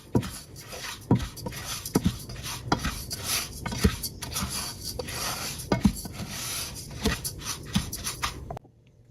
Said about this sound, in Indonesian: Aduk hingga tercampur merata.